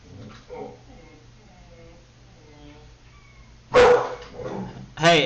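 A pet dog barks in a home during a live-streamed chess game, with sharp bursts near the end following a stretch of quiet talking; someone speaks in the foreground throughout.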